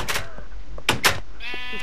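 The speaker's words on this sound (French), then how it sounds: "un mouton dans mon jardin?" A Minecraft sheep bleats in the game world, one clear wavering bleat near the end, with short thumps and a brief earlier tone around it and a speaker's voice in the background.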